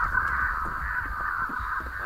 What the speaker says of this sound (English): What are the crows doing?